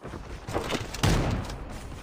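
Video game gunfire from a shooter match, a couple of bursts of shots with a stronger blast about halfway through, fairly loud and close over a steady background.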